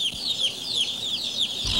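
Two-day-old broiler chicks peep in a large barn holding tens of thousands of birds, a steady, dense chorus of high chirps sweeping up and down, close and fairly loud, with no talk.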